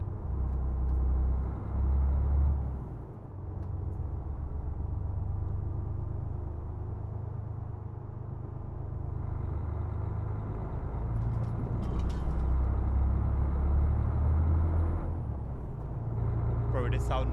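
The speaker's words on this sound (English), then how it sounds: "Bro, this sound mod is so good." Heavy modded truck engine in Euro Truck Simulator 2, a deep steady rumble running throughout with a brief dip near three seconds, under a voice talking in a live stream.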